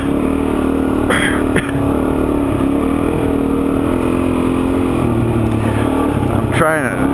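A dual sport motorcycle rides through a sandy wash at Camp Creek, Arizona, its engine droning loud and steady under constant throttle, with a rider talking over it.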